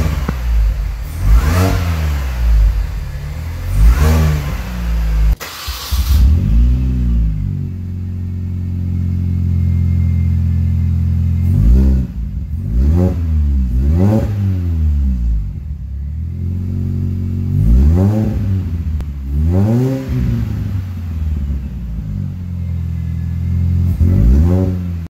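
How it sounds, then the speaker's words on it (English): A Mini Cooper engine revs repeatedly, first through its stock exhaust and then through a Monza Pace Setter exhaust. The loud, close rising-and-falling blips come in clusters between idling stretches, with no talking. "This is stock exhaust at first and then the Monza pace setter after that."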